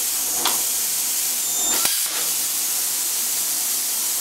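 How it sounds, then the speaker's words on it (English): During a water test, water rushes and splashes from a shrouded tube as a continuous, close, broadband hiss with a couple of brief sharper spatters. "Getting minor splashing up in around the shrouded area here."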